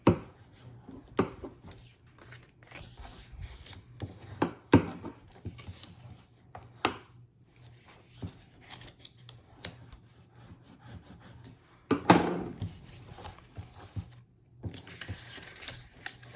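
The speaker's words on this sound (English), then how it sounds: "make a nice crisp crease with your bone folder" Folded cardstock creased with a bone folder, giving scattered soft rubbing strokes and sharp taps against a hard work surface, close and quiet with gaps of near silence between them.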